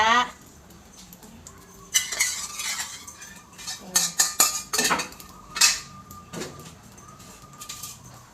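Curry paste gets stirred and broken up with a metal utensil in a large pot, irregular scraping and clinking strokes in short bursts separated by quieter pauses, close up and moderately loud.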